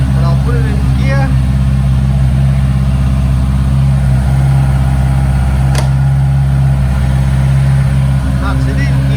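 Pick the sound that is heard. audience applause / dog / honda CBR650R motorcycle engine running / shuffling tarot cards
honda CBR650R motorcycle engine running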